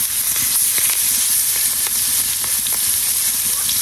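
Taki fish frying lightly in hot oil, a steady close sizzle with scattered crackles and pops throughout, no voices.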